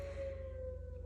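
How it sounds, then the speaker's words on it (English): A Midwest tornado siren sounding its daily test, heard as a faint, distant steady tone that slowly fades over a low background hum. "I live in the Midwest, and that is our daily tornado siren"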